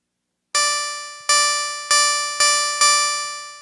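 A Poly Evolver keyboard synth patch meant as a cymbal: five bright, metallic, ringing hits at uneven intervals, each decaying slowly, clean and close with no talk.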